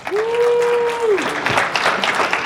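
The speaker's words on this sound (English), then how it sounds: "Give her another round of applause." An audience at a conference podcaster panel claps in a brisk burst of applause. A voice calls out or cheers over the start, and the clapping continues loud and close.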